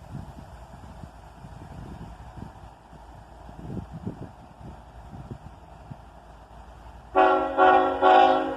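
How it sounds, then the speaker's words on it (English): A CSX freight train idles with a low rumble before its horn sounds a loud, sustained multi-tone blast near the end, close by and dominating the scene. "And he gives us a nice little horn salute there."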